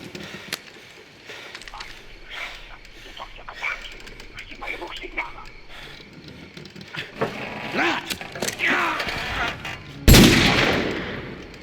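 A single loud pistol gunshot near the end as Captain Price executes Al-Assad in Call of Duty 4, following a stretch of quieter talk and ambient game sound.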